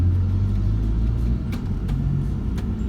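A Toyota Prius 1.8 Hybrid accelerating in power mode, heard as a loud, steady low engine rumble with road noise, a slight dip partway through, and no talking.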